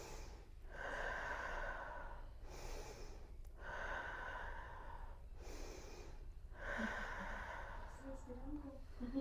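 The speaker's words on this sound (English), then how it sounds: "now let's go back to the chest breathing. That's a little quicker." Quick, rhythmic chest breathing practised as a childbirth comfort measure in a class, with bursts of breath repeating every couple of seconds, close and fairly loud.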